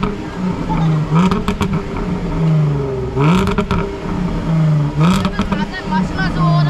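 A Jaguar car revs its loud exhaust at a low-rider car meet in Astana, with deep droning engine tone rising in repeated surges of throttle, close and loud, while people talk and shout nearby.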